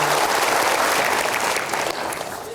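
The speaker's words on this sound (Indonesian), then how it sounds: "kita berikan aplaus untuk Bayu Skak" A studio audience claps steadily for a guest on a talk show, dense and close applause that holds strong then tapers slightly near the end.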